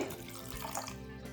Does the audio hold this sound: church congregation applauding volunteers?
no